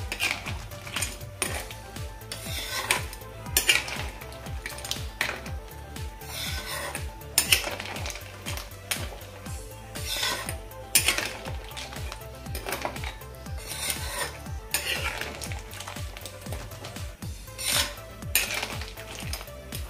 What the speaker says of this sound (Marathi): आता हे ढवळून घेऊया, व्यवस्थित मिक्स करूया।